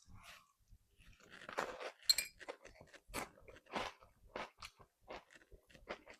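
Close crunchy bites and chewing into a rice ball flavored with ume kombu and a crispy kaki topping: several sharp crackly crunches followed by softer mastication, quiet with no talking.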